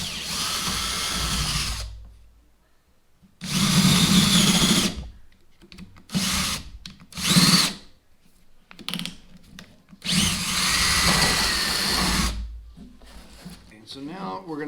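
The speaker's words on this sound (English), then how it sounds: "I've got a couple of pilot holes that I drilled, and now I'm going to enlarge them to 1/2 inch." Power drill boring pilot holes out to 1/2 inch in wood for a small dinghy build, heard in three long whirring bursts with several shorter spurts between, close and loud, with some talk in the gaps.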